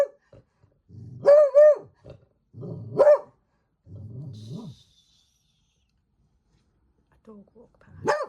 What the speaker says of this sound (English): A dog walk past, just to let you know.